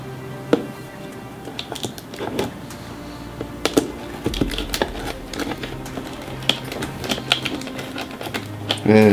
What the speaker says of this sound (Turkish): Şimdi ufak ufak kutumuzu açalım.